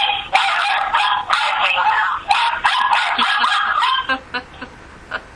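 Several household dogs bark in a frantic, near, continuous burst of overlapping barks and yips, tapering into a few separate barks at the end.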